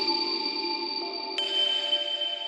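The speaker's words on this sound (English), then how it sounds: "Let's throw on like a big shimmer" Sustained bright, shimmering tones hang in the air, with a high airy wash swelling in midway over steady lower notes, giving a lush, glowing reverb tail.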